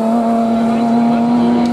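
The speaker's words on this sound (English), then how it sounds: "Cars roaring down the pit straight." Race cars roar down the pit straight at a motorsport circuit, a loud, steady engine drone holding a sustained pitch throughout with no voices.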